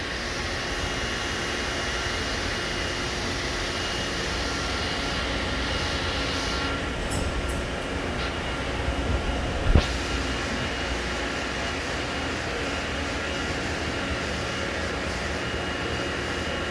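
A Star ECAS 20T CNC Swiss lathe in a clean plant powers up and runs, giving a steady loud mechanical hum and whir with a faint click partway through, heard close and without talk.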